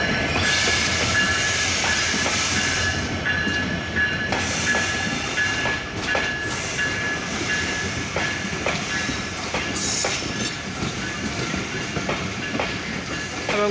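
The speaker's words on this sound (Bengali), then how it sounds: "66-25 লোকোমোটিভ নিয়ে পঞ্চগড় থেকে ছেড়ে আসা রাজশাহীগামী আন্তনগর বাংলাবান্ধা এক্সপ্রেস ট্রেনটি প্রবেশ করলো" The Banglabandha Express, hauled by locomotive 6625, rolls into Dinajpur railway station, a steady loud roar of wagons with rhythmic wheel clatter and brief squeals and hiss throughout, no voices.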